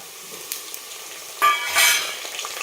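Green chillies drop into a pan of browned onions for a chicken dish and are stirred, starting as a soft background sizzle and then rising into two louder bursts of hissing and spoon scraping.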